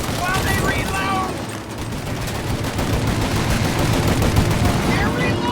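Dense, sustained gunfire in a video game shootout in Mafia: Definitive Edition: rapid overlapping machine-gun bursts, loud and close, with a few vocal sounds mixed in early on.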